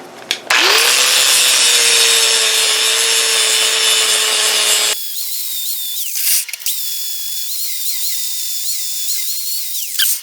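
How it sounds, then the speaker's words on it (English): A 4-inch angle grinder wheel bevels the mushroomed head of a steel chisel: a loud, steady high grinding whine for about five seconds, then softer intermittent grinding passes with brief pauses, no talking. "one of these wheels right here, 4-inch grinding wheel"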